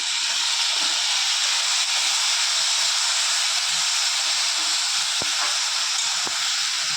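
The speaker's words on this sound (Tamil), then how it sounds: "இந்த வரகரிசியை நல்லா கழுவி வச்சுருக்கேன் அதையும் கூட போட்டு கொஞ்சம் வதக்கிடலாம்" Washed kodo millet sautés in a pan with curry leaves, giving a steady close hiss and sizzle throughout, with a couple of faint clicks near the end.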